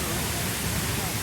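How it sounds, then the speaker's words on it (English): Steady broadband rush of a waterfall at Mount Rinjani, a popular tourist spot, heard up close and constant, with faint murmur of voices mixed into the roar. "Now we have a waterfall here that looks very nice."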